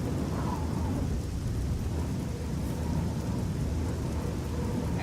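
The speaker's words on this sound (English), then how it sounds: "Oh good, it's raining." Steady, dense rainfall on a night in Oblivion, with a low rumble of thunder underneath; the downpour stays loud and even throughout.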